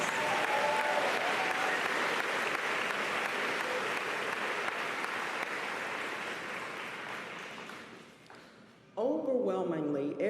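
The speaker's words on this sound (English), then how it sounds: "Can we give them a round of applause?" An audience at a 2022 graduation ceremony applauds loudly and steadily for about eight seconds. The clapping fades out and a speaker begins talking.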